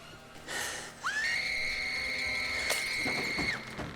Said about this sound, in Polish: tutaj potrzebny będzie magiczny krzyk